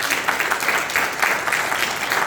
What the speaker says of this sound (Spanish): Denle un aplauso por eso.